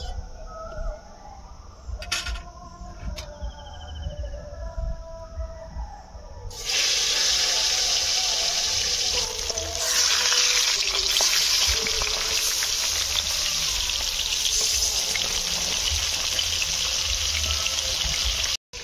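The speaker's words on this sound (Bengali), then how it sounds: "তেল গরম হয়ে গিয়েছে, এবার মাছগুলো দিয়ে দেবো।" Rohu fish pieces drop into hot oil in a wok, and after a quieter start a loud, steady, broad sizzle begins and continues without a break.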